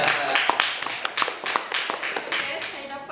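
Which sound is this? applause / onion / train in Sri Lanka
applause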